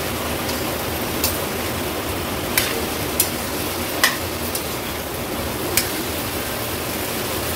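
Chopped tomato is stirred into fish curry in a pan over a steady sizzle, with a few sparse, light spoon taps and scrapes close by.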